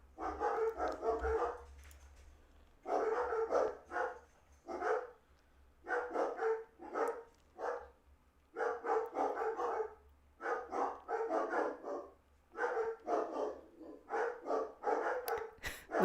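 Dogs bark over and over in quick clusters for the whole stretch, a steady run of rough barks at moderate distance with short pauses between volleys and no talk.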